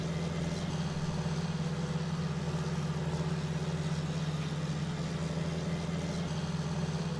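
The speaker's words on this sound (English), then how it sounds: "The revs died down as it's not pulling hard as it should do with an auto power, which is good." A John Deere 6030 tractor engine in Farming Simulator 19 gives a steady, low, droning hum at constant revs. It runs alone without pauses.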